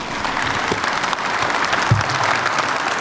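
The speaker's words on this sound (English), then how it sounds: "I want us to clap hands for them and wish them the best in Qatar" A room full of people claps hands in sustained, dense applause for Ghana's World Cup team bound for Qatar, loud and close with a faint murmur under it.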